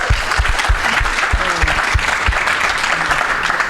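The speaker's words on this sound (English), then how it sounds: "Can we give Kelvin a round of applause?" Audience applause for Arizona Cardinals player Kelvin Beachum at a sports talk event, loud steady clapping from a crowd that fills the whole stretch, with a few sharper individual claps up close.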